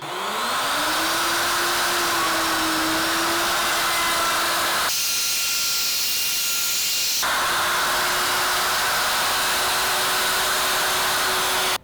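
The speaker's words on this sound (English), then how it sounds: "So now I'm just going to lower the bit and take a final pass." A router bit whines loudly and continuously as it cuts a recess into a wooden drink coaster, its pitch and tone shifting briefly midway before settling back to the same steady drone.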